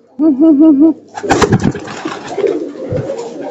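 A pet pigeon gives one loud, close, wavering coo lasting under a second, followed by rustling and handling noises with someone talking over them.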